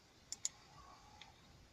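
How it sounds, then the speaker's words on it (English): Two crisp computer mouse clicks in quick succession, close and fairly quiet, then a fainter third click in a quiet room, no voices. "If I click with the mouse"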